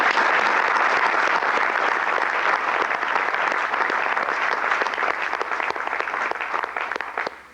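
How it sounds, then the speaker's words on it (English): Audience applause at a drumline clinic at PASIC 2002: a thick wash of clapping that holds steady, then thins into a few sharper individual claps as it fades near the end. "give a round of applause to them"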